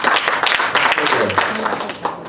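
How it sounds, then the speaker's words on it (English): Audience applause at the AED2019 conference, a brief burst of clapping mixed with voices and some talk over it. "A round of applause again for."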